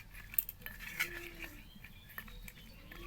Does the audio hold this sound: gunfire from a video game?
no